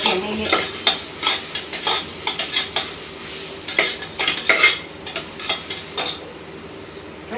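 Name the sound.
ginger garlic paste sautéing in oil, stirred in pan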